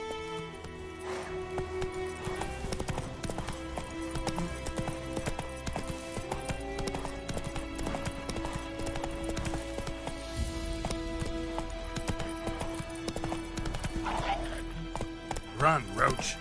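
Steady hoofbeats of the horse Roach galloping in The Witcher video game, a continuous rhythmic clip-clop under game music and voices.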